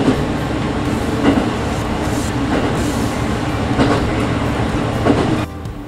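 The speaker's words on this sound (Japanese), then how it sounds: "列車は倶知安の市街地を抜け、" The limited express Niseko train runs through Kutchan, a loud steady rumble from inside the car with regular wheel clacks over rail joints, dropping off abruptly at the end.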